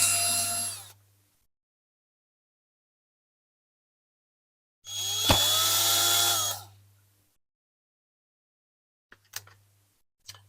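A power drill bores a 1.5mm hole into a diecast Corgi Toys 407 Smiths Karrier shop model. Two short, loud whirring bursts come a few seconds apart with silence between them, followed by a few faint clicks.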